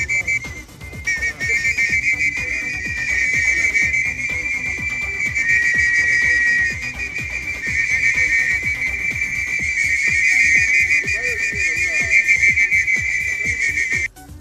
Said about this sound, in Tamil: போக்குவரத்தை விசில் ஊதி ஒழுங்குபடுத்த பயிற்சி வழங்கினார்.